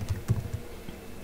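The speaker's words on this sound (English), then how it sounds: "I will just type node space" A few quick keystrokes on a computer keyboard clatter close by in a short, quiet burst, then fade to near silence.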